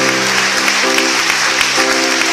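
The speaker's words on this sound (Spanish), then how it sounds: "Si lo va a aplaudir, hágalo fuerte al que vive." A church congregation breaks into applause during a Spanish-language service, a steady wash of clapping with a sustained musical tone running underneath and rhythmic low thumps throughout.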